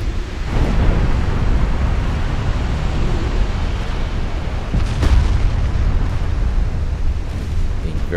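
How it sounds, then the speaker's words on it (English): Fast-firing 12-inch naval guns in the Ultimate Admiral Dreadnoughts game boom over a rumbling, surf-like background, with a few heavier thuds standing out among steady low roaring. "And those fast firing 12 inch guns"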